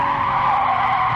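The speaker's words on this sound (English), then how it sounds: "we're braking here at the 50 meter mark." In Gran Turismo Sport, a Gr. 3 race car brakes hard at Autodrome Lago Maggiore, its tires giving a loud, steady skid squeal over engine noise throughout.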